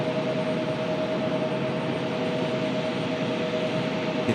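An American Airlines Boeing 777 jet departing Raleigh-Durham International Airport, a steady distant engine roar with a faint whine, even in loudness and without any speech.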